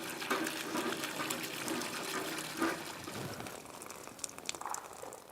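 Water being pumped by hand from a village well in an Afghan garden, sloshing and gushing in uneven surges, fairly faint, with splashing and trickling fading toward the end and no voices.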